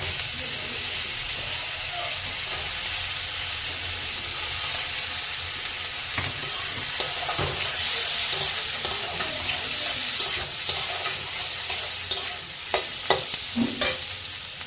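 Onions frying in a pan with crushed garam masala, a continuous close sizzle with stirring scrapes and occasional sharper pops building toward the end, with no talking.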